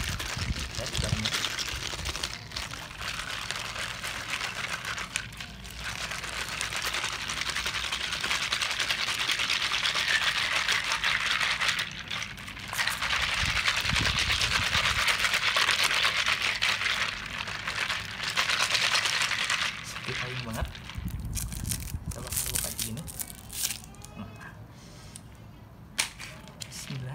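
A Chatime drink cup being shaken hard, making a steady rattling swish of liquid and ice for about twenty seconds, followed by quieter handling. A person talks now and then.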